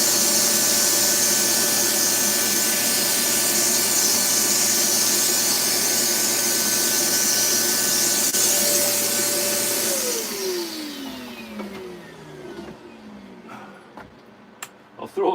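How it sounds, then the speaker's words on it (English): A vacuum cleaner in an art workspace whines loudly and steadily, then shuts off around ten seconds in with a falling pitch as the motor winds down, followed by quieter handling sounds. "I gotta turn off the cozy lights when I turn on the vacuum"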